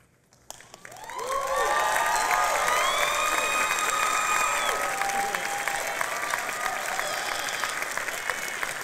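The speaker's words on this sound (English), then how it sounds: "I would like to ask those to present the audience to stand as we recognize them with an applause." Loud audience applause fills a commencement and convocation ceremony hall in Houston, starting abruptly after a second and holding steady as sustained clapping with faint cheers and voices mixed in.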